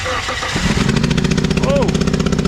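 A Suzuki Grand Vitara 2.7L engine cranks briefly, then catches and fires into a loud, rough, rapid-pulsing run close by, with a voice reacting over it.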